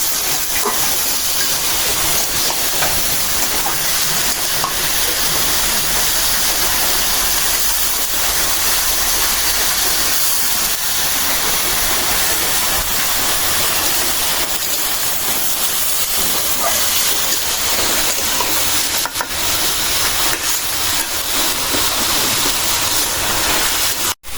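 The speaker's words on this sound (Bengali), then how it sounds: "আলুটাও ভাজা ভাজা ভেজে নেব" Potatoes fry with onions in a pan, giving a loud, unbroken sizzling hiss that stays steady and close for the whole stretch.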